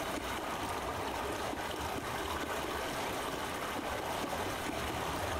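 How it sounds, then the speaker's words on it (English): Steady flowing water running through a pipe in the game Myst (2021), a continuous rushing trickle with a low mechanical hum beneath, even and unbroken throughout. "pipe water flowing"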